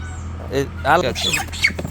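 A few squawky calls from 34-day-old broiler chickens in a controlled shed rise briefly over a low steady hum, close by and sporadic.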